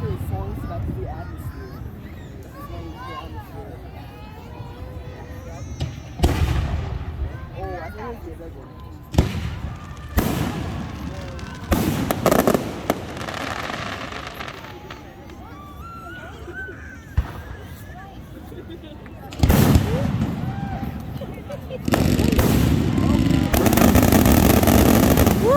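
Loud July fireworks bursts break out in several sharp booms and crackling volleys over a steady outdoor rumble, with a long dense barrage near the end; voices and a bird call are faintly present between explosions.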